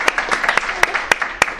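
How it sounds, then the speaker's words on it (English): A small audience at a Dublin Salon debate on assisted dying gives a short round of applause, a handful of sharp, separate claps coming in an irregular patter, close and fairly loud. "Give them a round of applause."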